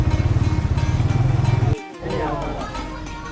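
A motorcycle engine idles close by with a steady, rapid throbbing while the bike is parked at the entrance of the Mian Mir shrine. It cuts out briefly, then a lower rumble and outdoor background noise follow.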